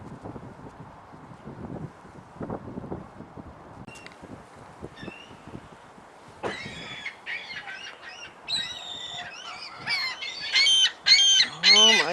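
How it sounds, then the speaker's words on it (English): Quiet outdoor background at Niagara Falls at first, then a burst of loud seagull calls, sharp cries piling up and growing louder toward the end. "those noisy seagulls"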